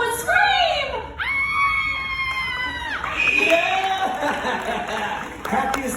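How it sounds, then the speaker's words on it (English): A woman's loud, sustained scream rises and holds in a crowd at a Universal Studios horror show, followed by shorter shrieks as the audience cheers and shouts around her. "Let's all hear how you would scream!"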